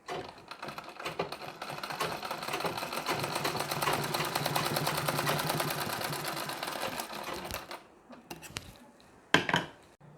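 A sewing machine stitches Nauvari saree fabric with a fine, short stitch, running steadily and fairly close for about eight seconds before stopping, followed by a few brief clicks and a short knock.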